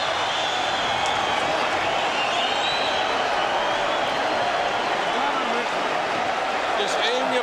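A boxing arena crowd roars steadily throughout the Gatti vs Ward fight, a dense continuous wash of cheering and clapping with voices talking over it.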